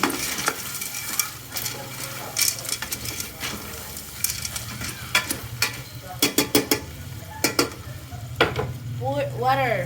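A spoon stirs macaroni into chicken soup in a metal pot on the stove, giving close, repeated scrapes and clinks over a low sizzle, while a voice speaks occasionally and birds chirp faintly in the background.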